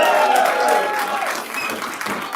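An audience claps at a Minneapolis parks board commissioners meeting, a lively burst of applause in a hall with voices mixed in, fading slightly toward the end.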